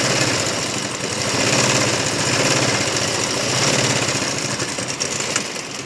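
A sewing machine stitching around the bottom of a salwar, heard as a continuous, close, loud motorized whir with a rapid rhythmic chatter that rises and falls slightly, with no talk.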